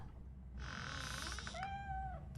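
A cat meows in the video game RoboCop: Rogue City, a single drawn-out, wavering cry that rises and then falls, fairly close over a low background hum.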